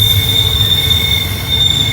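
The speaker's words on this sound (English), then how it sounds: "You get an idea of the power those locomotives have. They can pull that much weight around a curve" Long freight train hauled by locomotives around Horseshoe Curve, with sustained high-pitched wheel squeal ringing over a low steady rumble of rolling cars, continuous and fairly close.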